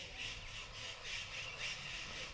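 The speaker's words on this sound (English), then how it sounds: "Those are parrots?" Parrots squawk in a series of harsh, rhythmic calls, about five bursts repeating steadily at moderate distance and fairly faint, with no talk over them.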